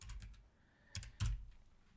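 A computer keyboard clicks as a command is typed, a few quick close keystrokes at the start, a pause, then two louder clustered taps, all with no speech.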